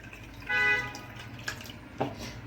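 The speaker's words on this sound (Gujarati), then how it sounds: "આવી રીતે આમ પાણી કાઢી નાખવાનું" Wash water poured off soaked fenugreek seeds gives a soft liquid splash and trickle that swells briefly, followed by a couple of faint drips, close by with no talking.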